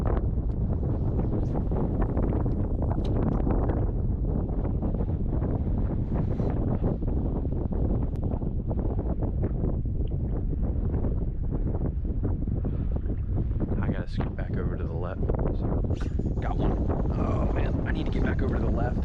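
Wind gusting across open water while fishing for schooling redfish, a constant broadband roar buffeting the microphone, with water and boat noise beneath and a voice talking over it toward the end.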